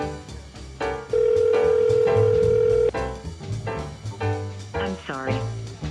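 An outgoing call to Raymond sounds one long, steady ringback tone for about two seconds. Brief tonal sounds and murmuring come before and after it.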